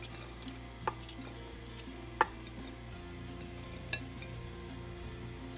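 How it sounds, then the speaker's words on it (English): Fruit being sliced for detox water in a kitchen, a few sparse knife taps and clinks against a board, faint and quiet over a low steady hum. "And just slice that up."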